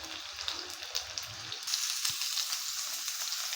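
Onion and garlic sautéing in a home kitchen pan, a steady close sizzle that swells louder partway through and carries on alone with no talk.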